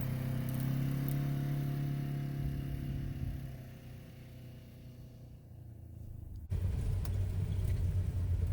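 A Polaris Ranger 1000XP side-by-side runs along a trail on private land, its engine droning and rumbling steadily, easing off midway before an abrupt louder surge of engine and terrain noise.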